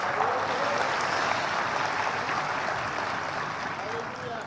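A church congregation claps together during a morning worship service, a dense, steady wash of applause that holds for several seconds and fades slightly at the end.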